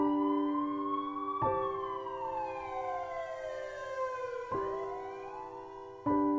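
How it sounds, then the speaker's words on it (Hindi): Ambulance siren wailing loudly and close by, its rising and falling tone sweeping repeatedly over several seconds, with no voices. "शंभू ने एम्बुलेंस की मदद से राजन को अस्पताल पहुंचाया"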